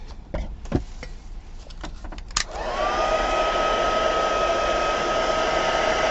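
A hair dryer switches on after a few clattering knocks and runs at a steady, loud whir, drying a craft project in an industrial-themed crafting session.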